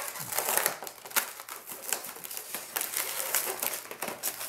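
Rapid crackly ripping and crinkling bursts, close and uneven, as packing tape is picked at and pulled from a cardboard box in short tugs.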